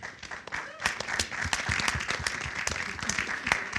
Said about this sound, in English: Round of applause for Justin Brewer.